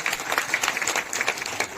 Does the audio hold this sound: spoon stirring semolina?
no